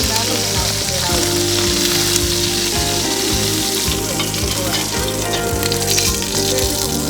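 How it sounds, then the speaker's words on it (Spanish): Chicken fries in oil in a pot for arroz con pollo, giving a loud, dense, continuous sizzle with crackling pops and occasional stirring. "yo tengo el pollo, he empezado a freírlo"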